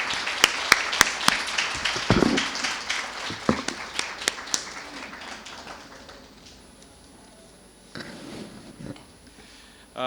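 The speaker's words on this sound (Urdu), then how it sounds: "آپ سے درخواست کروں گا کہ ان کو تالیوں میں ویلکم کیا جائے" An audience at a literary festival gives scattered applause to welcome a speaker to the stage, sharp separate claps that thin out and fade into quiet room noise.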